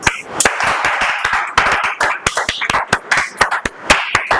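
A small indoor audience claps to welcome a speaker at a debate class, giving sharp, uneven close-up claps in a continuous burst.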